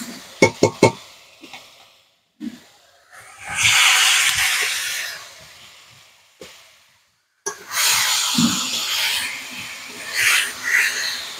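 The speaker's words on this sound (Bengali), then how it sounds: "এখন ভেজে রাখা আলু আর ডিম দিয়ে দেবো।" Fried potatoes and duck eggs go into sizzling masala for a Bengali egg curry: a few sharp clatters come first, then two loud, sustained hissing sizzles separated by a brief pause.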